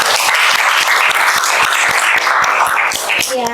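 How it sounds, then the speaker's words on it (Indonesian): A classroom of students claps together in a loud, close burst of applause with evenly spaced individual claps and excited voices mixed in. "Ya, tepuk tangan lah untuk kita semua."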